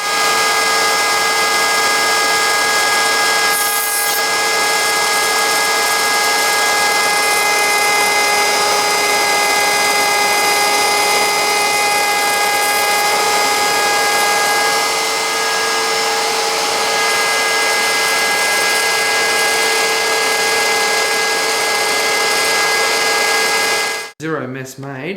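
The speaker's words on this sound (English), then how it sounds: "So what I'll do is I'll start the router, wind it down to that 13," Wood router running continuously, cutting a 5mm groove straight across a wooden subwoofer box panel, a loud sustained high whine with steady harmonic tones that winds down abruptly near the end.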